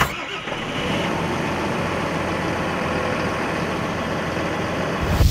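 A Valtra T132 tractor's diesel engine runs steadily at a constant idle-like pace, loud and close, a continuous low rumble with no voices.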